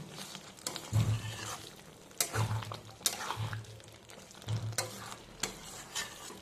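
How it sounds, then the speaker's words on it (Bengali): A spoon scrapes and stirs potol chingri, pointed gourd with shrimp and a pinch of shahi garam masala, in a pan. Repeated close strokes carry a soft sizzle of frying underneath, with no talking. "এটা ভালো করে মিশিয়ে আমি নামিয়ে নেব।"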